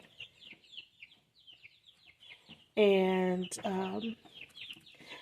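Three-week-old backyard homestead chicks chirp in soft, high peeps throughout, with a louder burst of calls near the end, while a person speaks briefly.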